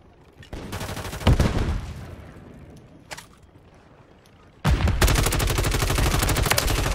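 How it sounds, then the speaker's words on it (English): Bursts of enemy gunfire in Call of Duty Warzone on Ashika Island: two long, loud volleys of rapid automatic shots separated by a quieter gap holding a few isolated cracks. "Those guys are already shooting at us"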